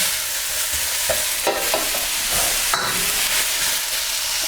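Peppers, carrots and sesame seeds for satay beef are stir-fried in a hot pan, a steady sizzle broken by several scraping stirs and tossing clatters, close and fairly loud with no talking.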